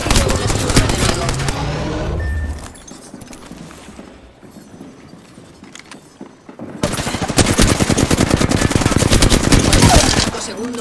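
Rapid automatic gunfire in the Apex Legends battle royale, loud dense bursts from 0 to 2 s, a quieter stretch, then sustained heavy firing from about 7 s to the end.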